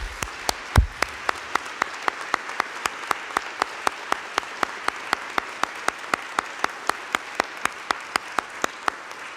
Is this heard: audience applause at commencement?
yes